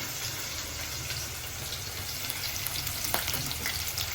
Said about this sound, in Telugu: ఆయిల్ హీట్ అయిపోయింది ఉల్లిపాయ పచ్చిమిరకాయ వేసుకుంటున్నాను